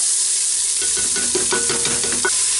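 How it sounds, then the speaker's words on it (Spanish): Onion and garlic sizzling in a very hot oiled pan, a loud, close hiss broken by stirring scrapes and bursts of crackle as the pieces are moved around. "acá tengo la sartén bien calientita con aceite y ahí vamos a agregar primero la cebollita con el ajo"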